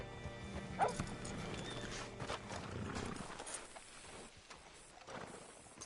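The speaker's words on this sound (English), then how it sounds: "Hitch your horse up here." Horse hooves clop along in Red Dead Redemption 2, a steady moderate rhythm close by over a low ambient bed of game sound, fading quieter toward the end with no talk.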